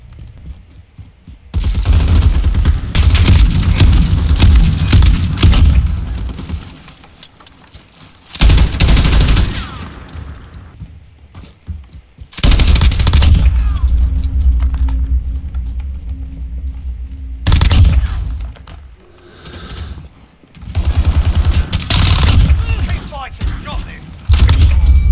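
Video game gunfire in heavy, loud bursts of rapid shots repeating across the stretch, separated by brief quieter pauses, with occasional speech between volleys.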